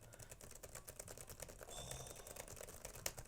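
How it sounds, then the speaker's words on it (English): Quiet, rapid clicking comes from typing on the low-profile SteelSeries Cherry MX keyboard of an MSI Titan 18 laptop, a steady close patter of light keystrokes with no talk over it. "Now, this is a SteelSeries Cherry MX keyboard."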